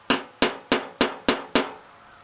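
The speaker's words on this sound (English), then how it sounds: "So I'm gonna use this nail and this hammer." Hammer tapping a nail to punch-mark a car body panel: six sharp, evenly spaced metallic strikes, close and fairly loud, with no talking.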